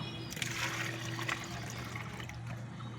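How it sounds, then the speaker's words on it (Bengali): Strained liquid fertiliser water is poured onto freshly picked vegetable plants in a garden, a steady close splashing and trickling pour that lasts about three seconds. "তো এই যে জলটা আমি এখন গাছে দিয়ে দেবো"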